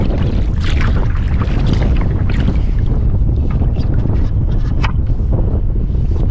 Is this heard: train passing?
no